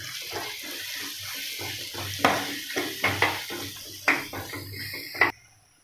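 Onion with turmeric and garam masala stirred in a pan for cauliflower and green peas curry: steady low sizzle with repeated scraping strokes, a few sharp clinks of the spoon against the pan, close and without talk.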